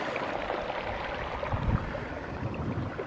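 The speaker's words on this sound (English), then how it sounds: "But you can hear the water coming down from up higher through these rocks." Water rushes down through rocks above Hayden Lake at dusk, a steady, continuous wash of noise that stays even throughout, with no voices.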